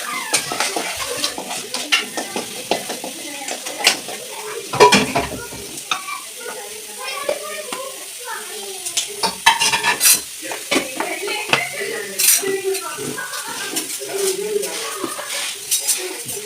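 Onion fries in a pan with pepper powder, turmeric and egg, a spoon stirring and scraping against the metal in quick, irregular strokes over a steady sizzle.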